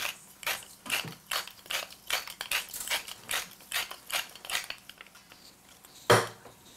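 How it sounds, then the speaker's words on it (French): A pepper mill grinds pepper over a tomato salad with tarragon in a series of close, dry ratcheting crunches at an even rhythm, ending in one sharper knock. "Ensuite, poivre moulin."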